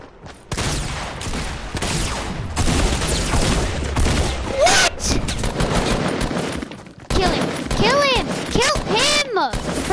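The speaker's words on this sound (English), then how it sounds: "heavy shotgun." Gunfire from a heavy shotgun and other weapons in a video game, a rapid string of loud blasts and bursts filling the stretch, with a short lull and ringing tonal effects near the end while players talk over it.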